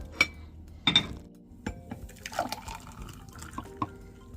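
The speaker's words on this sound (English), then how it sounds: "So now we're gonna pour our juice out." Juice is poured into a glass in a kitchen, with a few clinks of glassware at the start followed by soft, close trickling and splashing of liquid.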